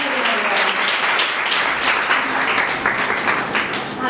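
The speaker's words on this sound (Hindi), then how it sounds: "वचन के लिए हम जोरदार तालियों से" Loud, dense applause fills a church ladies' meeting, a congregation clapping continuously and vigorously from start to finish with only faint voices beneath.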